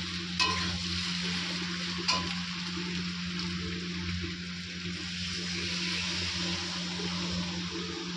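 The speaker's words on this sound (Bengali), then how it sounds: "তো আমি এখন জলটা ছেড়ে" Chicken curry frying in a pan with a steady loud sizzle and hiss as water goes in, a couple of sharp utensil clinks near the start, and a constant low hum underneath.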